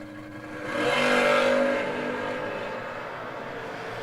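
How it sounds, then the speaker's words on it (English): Drag racing cars roar past at a distant event, the engine sound swelling to a broad whooshing peak and then easing into a steadier drone. "Got us a drag race, guys."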